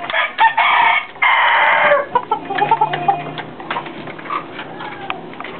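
A Dan Gray Roundhead gamefowl rooster crows loudly and close by in two long calls, followed by softer clucking and farmyard noise.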